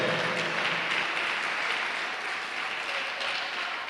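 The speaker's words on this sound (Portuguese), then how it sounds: "Pode aplaudir bem forte o Senhor." Church congregation applauding during a worship service, a steady, loud wash of clapping with no break.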